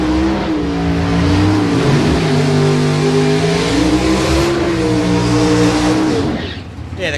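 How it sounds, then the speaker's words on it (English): Chevy Camaro drag car powered by a 584 cubic inch big block Chevrolet engine at a street challenge drag event, a loud steady engine drone with a rising harmonic whine that fades near the end, with an announcer talking over it. "the Camaro's running a 584 cubic inch big block Chev"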